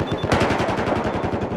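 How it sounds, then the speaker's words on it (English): Rapid machine gun fire in the Battlefield 4 video game, a loud sustained burst of evenly spaced shots rattling close with no pause. "It just has a machine gun on it."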